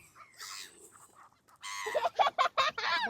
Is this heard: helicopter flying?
no